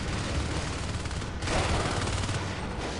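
Three Marines fire shotguns in a Natural Selection 2 match, producing a dense, continuous barrage of loud overlapping blasts with a brief surge midway.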